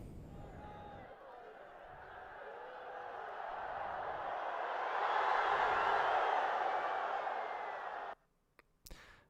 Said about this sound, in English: the crowd goes wild right when Bobby Labonte gets the ball